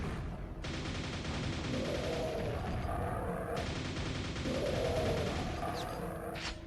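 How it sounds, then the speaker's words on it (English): In World of Warcraft Classic, rocket-firing ogres launch rockets in steady repeated volleys of popping, booming shots over a dense, continuous battle din, with no talk. "we got rocket ogres. Don't like that. They fire 2 rockets."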